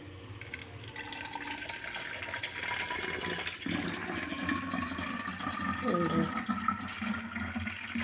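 Juice pouring steadily into a container, a continuous trickling splash, with voices talking over it.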